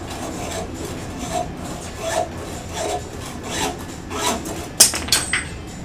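A stuck part on a Suzuki Boulevard C50 bobber being cut by hand, a steady rasping stroke-by-stroke sawing rhythm at close range, ending with a few sharper metallic scrapes.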